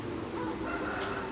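A chicken crows and clucks outdoors on a snowy early morning near a village home; the call is drawn-out and steady, moderately close, over a soft wash of background noise.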